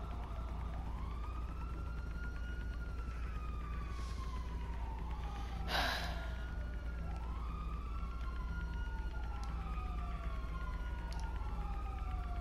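Police car sirens passing outside, heard indoors as repeated wailing sweeps that rise and fall over a steady low hum, fairly faint and distant, with one brief louder knock midway and no talking.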